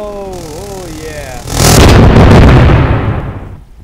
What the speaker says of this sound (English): Best explosion I've ever seen in my entire life.